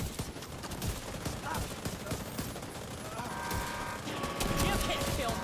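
Rapid video game gunfire pours into a boss during a raid, steady bursts of automatic shots layered with game effects and voice chat, fairly faint and continuous throughout.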